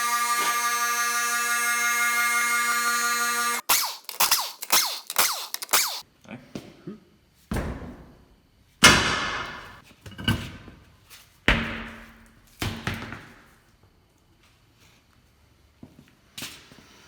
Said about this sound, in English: let's go ahead and take these wheels off